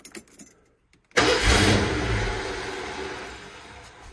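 After a few faint clicks and a pause, a 1979 Ford Mustang with a new dual exhaust turns over and roars to life loudly, then settles into a rumbling idle.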